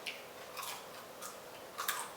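Crispy french fries chewed close to the mic in a mukbang, a few quiet crunchy bites spaced across the clip with no talking.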